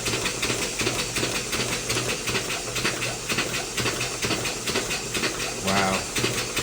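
A small model steam engine hisses steadily as pressure builds in its silicone tube, with rapid rhythmic chuffing pulses running under a constant airy blow at close range.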